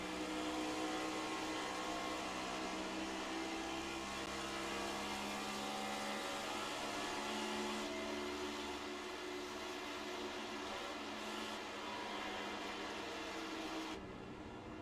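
Race car engines roaring around Charlotte in the iRacing video game, a continuous droning blend of many engines at steady volume with no talk, dipping slightly near the end.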